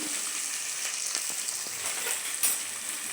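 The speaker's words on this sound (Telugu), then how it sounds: "వేడిన తర్వాత కొంచెం ఉల్లిగడ్డలు, పుదీనా, కరివేపాకు వేసుకున్న తర్వాత కొంచెం మిక్స్ చేసుకోవాలి." Onions, mint and curry leaves sizzle and crackle in a hot pan as they are stirred, a soft, steady frying hiss with occasional scraping, while cooking a mutton curry.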